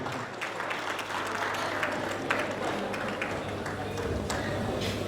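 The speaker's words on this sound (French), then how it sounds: "On applaudit pour le pasteur" An audience at a 70th birthday celebration claps for the pastor, steady applause from a crowd heard at mid distance, with voices talking over it.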